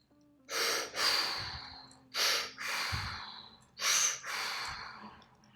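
Heavy, forceful breaths during the final set of a push-up workout, three paired bursts of deep inhale-exhale effort, close and loud with short pauses between, no talking.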